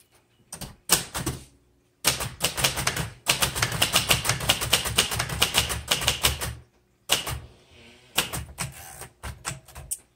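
Keys clack on a 1960s Royal 890 portable manual typewriter, with rapid sharp strikes in bursts, a long dense run of steady typing in the middle, and pauses between, all close and crisp.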